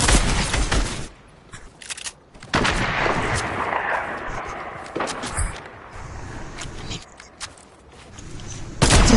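Bursts of submachine gun fire from a video game, loud rapid volleys with short pauses between them, alone without talk.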